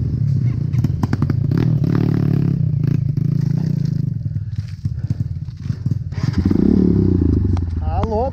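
A dirt bike engine runs on a rough trail, droning and revving loudly and close up, with rattles and clatter from the bumpy ride. A voice talks over it near the end.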